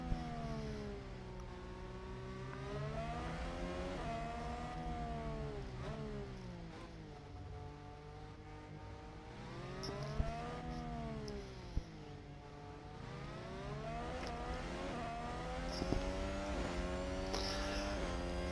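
Formula 1 cars racing in the F1 22 Manager video game as Daniel Ricciardo closes on an AlphaTauri to overtake: continuous engine whine rising and falling with revs, with no talk and a steady loud level throughout.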